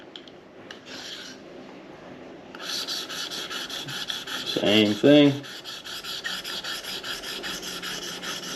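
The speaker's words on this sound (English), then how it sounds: "Now we're going to switch to 1500." Knife blade stroked across a 1500 grit stone on a KME sharpener, giving a steady fine rasping scrape that runs continuously, close and fairly loud, with a brief spoken remark near the start.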